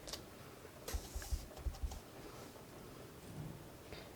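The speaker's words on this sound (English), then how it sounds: "Can you hear that rain?" Rain falls outside a room: a faint, steady patter with a few soft low thumps near the start. No one speaks.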